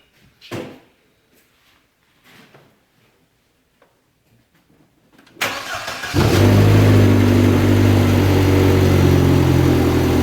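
Audi A4 engine with worn spark plugs and ignition coils cranks and catches with a sudden loud burst, then settles into a steady, slightly rough idle close by, after a few quiet clicks and handling noises.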